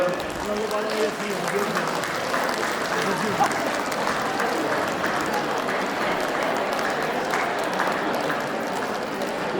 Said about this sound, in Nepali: कृपया ताली बजाइनु होला